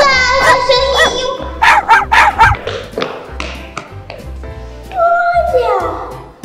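A fierce dog gives several sharp yapping barks in bursts, mixed with children's voices and a toy-like tapping nearby.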